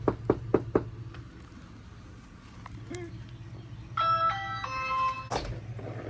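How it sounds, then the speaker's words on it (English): Three sharp, close raps land on a door in quick succession, followed by a pause and then a bright, tinkling melodic chime-like tune. "I'm just gonna show up and knock on the door."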